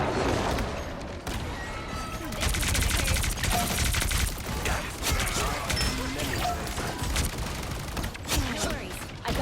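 Rapid gunfire bursts crackle through a Marvel Rivals team battle, dense and continuous with heavy mechanical clatter and booms across most of the stretch, a voice occasionally talking over the action.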